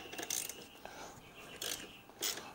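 A half-inch socket ratchet works a bolt free on the belt cover of a McLane mower, giving faint, quiet bursts of ratcheting clicks with short pauses between them.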